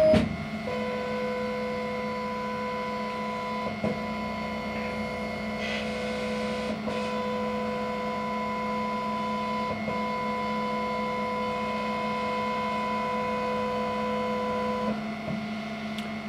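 Laser cutter running an autofocus routine over thin 1.5 mm sheet material, giving a steady tonal machine hum with a few soft clicks and brief motor whirs along the way, close by and with no voices.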